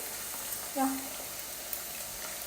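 French fries, a first batch for Ramadan iftar loaded fries, frying in hot oil: a steady broadband sizzle runs throughout, with a brief louder splash-like burst near the start and no talk.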